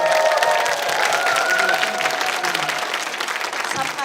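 A live talk-show audience in Yongin breaks into loud, sustained applause, dense clapping with crowd noise and light cheering running steadily throughout.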